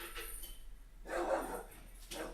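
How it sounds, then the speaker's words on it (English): A dog barks indoors, a short burst of barking in the middle with a fainter yelp near the end, heard alone at a moderate distance with no talk. "And now my dog's going on, ruining the moment."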